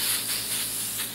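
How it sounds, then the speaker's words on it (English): A short, steady hiss of volumizing hair spray released from a bottle, close and continuous for about a second. "and then just spray it in here"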